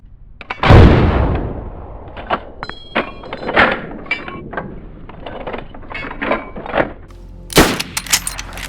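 Gunfire in the video game DayZ: sharp sporadic shots and mechanical clacks and thunks, one heavy boom near the start and another burst near the end, close and loud with no talk.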